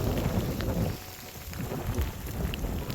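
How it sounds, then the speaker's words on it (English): Heavy rain pours steadily and close outdoors during a rockhounding outing near Columbus, a dense continuous wash with a low rumbling undertone and scattered droplet taps, and no voices. "but it's raining with plenty of force here."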